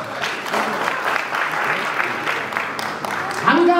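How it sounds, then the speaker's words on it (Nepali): An audience applauds steadily for a Nepali public figure at a speaking event in Nepal, with loud, dense clapping throughout. A voice briefly rises over it near the end. "अभिनन्दन गरिदिनुहोस् ताली बजाएर।"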